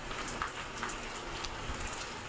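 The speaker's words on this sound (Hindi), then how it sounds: "और बारिश देखें तेज़ हो रही है" Heavy rain falls steadily outdoors: a dense, constant hiss of drops with scattered louder patters close by, and no voices.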